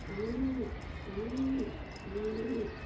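İzmir mail pigeon cooing close by, three drawn-out, throaty coos evenly spaced over a quiet background.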